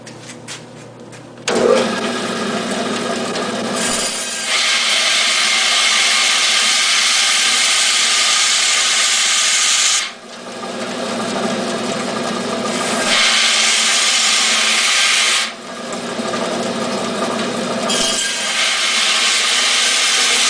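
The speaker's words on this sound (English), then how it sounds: "I can chop off these corners, and I'll show you that on the bandsaw" A bandsaw cuts the corners off a wood log in repeated long passes. Each pass is a loud, steady whine of about six to eight seconds, separated by brief dips as the blade clears the wood.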